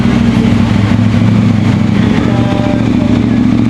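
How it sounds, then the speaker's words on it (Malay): A KTM motorcycle engine runs just after starting at a workshop, a loud, steady, close idle drone with a constant low throb throughout. "Oh, dah start dah. Motor saya dah start."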